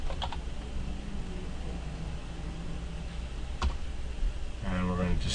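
Computer keyboard typing while network switch commands are entered in a configuration session, steady clicks under a constant background hiss, with a short burst of speech near the end.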